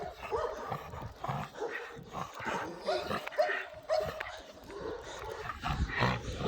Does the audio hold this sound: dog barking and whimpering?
yes